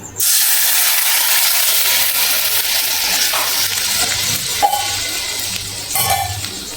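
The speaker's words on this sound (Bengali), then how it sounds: "এখন দিয়ে দিচ্ছি এই তেঁতুলের জলটা" Tamarind water hitting a hot pan seasoned with asafoetida and cumin, a loud burst of hissing sizzle that holds steady and then slowly eases, with a few faint clinks toward the end.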